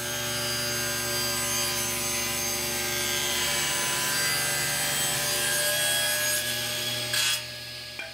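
A saw cuts at a 45-degree angle through 1.5-inch-thick maple, a steady continuous rasping drone with a strong tonal hum that runs loud for the whole stretch and then ends abruptly near the close.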